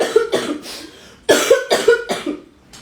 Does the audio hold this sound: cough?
yes